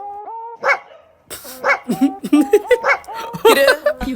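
A man imitates a dog with a string of voiced barks and yelps, bursting out irregularly and close up, with laughter mixed in among the barks.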